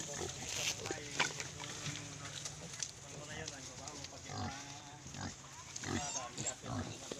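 Piglets on a farm grunt and squeal in repeated short bursts, close and fairly clear, with someone talking over much of the noise.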